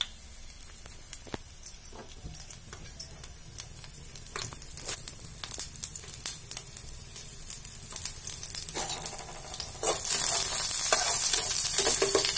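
Garlic sizzles and crackles in hot oil as it is stirred in a pan for a mixed kundru and parval vegetable dish, with a steady close-up fry that grows louder and brighter toward the end.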